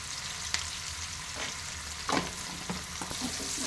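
Raw potatoes frying in a pan for a Rayalaseema-style aloo fry as turmeric is added, a steady close sizzle with a few brief stirring scrapes and clatters.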